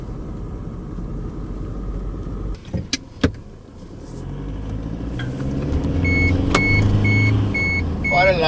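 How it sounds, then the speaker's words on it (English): Vehicle with a 3-litre turbo diesel engine and body-on-frame build, a steady low engine rumble with a few sharp clicks and thumps, then a rising hum and a repeating chime, no talking. "They've kept the same engine that's been tried and tested, the best 3-litre turbo diesel in the business"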